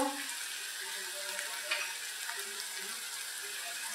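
Ginger-garlic paste and turmeric sizzle in a hot pan with oil, a quiet, steady hiss with faint crackles and the occasional light stir.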